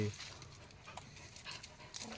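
Large dog panting in quick, soft breaths close by, faint under a person talking at the start.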